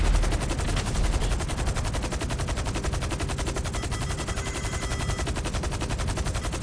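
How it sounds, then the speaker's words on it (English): Gunfire from a flintlock rifle in a shooting video game comes as a loud, sustained, rapid stream of evenly spaced shots for several seconds. "like it's a flintlock rifle or something"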